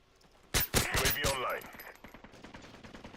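Rapid gunfire bursts from the video game Call of Duty: Modern Warfare 3, a loud cluster of shots in the first seconds that fades into quieter scattered background fire.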